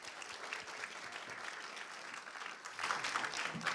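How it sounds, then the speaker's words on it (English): Steady audience applause fills the clip, swelling a little louder toward the end, with no one speaking over it. "let's give a big round of applause for Mike Dowd."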